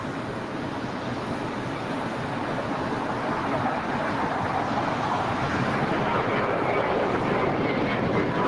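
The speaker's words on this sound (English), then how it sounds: "we've got a JetBlue A321 now taking off here on the right side, south side" A JetBlue Airbus A321 jet takes off at LAX, a steady, broad roaring rumble that swells slightly louder over the clip, heard from a distance with no talk.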